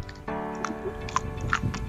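Someone bites into a raw green almond fruit picked straight from the tree, with soft crunchy chewing near the microphone, a few crisp bites over a quiet background.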